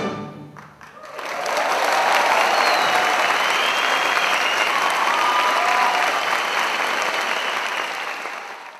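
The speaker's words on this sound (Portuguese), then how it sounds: "Arrancou longos aplausos da plateia" A concert audience bursts into long, sustained applause after a Ribeirão Preto Symphony Orchestra performance of Schumann, a dense wash of clapping that rises quickly and holds steady before tapering slightly.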